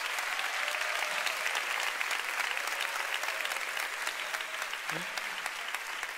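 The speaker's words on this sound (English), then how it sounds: "So give a big clap." A church audience applauds, producing dense, sustained clapping at an even level, with a brief voice rising over the applause near the end.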